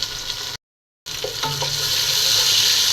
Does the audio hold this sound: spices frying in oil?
yes